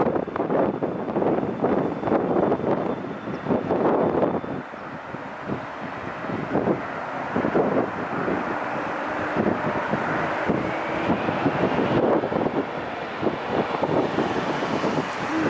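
An airliner lifting off the runway at LAX makes a broad, steady engine roar, heard amid gusty wind buffeting on the microphone throughout.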